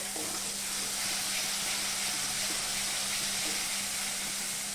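Water added to spice masala frying in oil, with ground turmeric and spices in the pan, giving a faint, steady hiss of sizzling that runs unbroken throughout.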